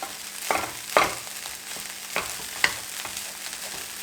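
Scrambled egg stirred into egg fried rice in a pan, with a steady sizzle under repeated scraping strokes of a spatula at a moderate, uneven rhythm, close and without speech.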